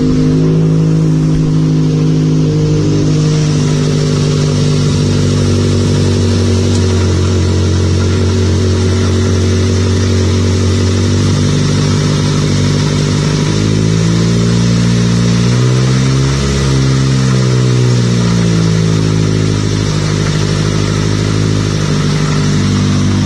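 A vehicle engine runs loud and close, a dense low rumble with shifting pitch as it idles and revs slightly, continuous throughout with no voices.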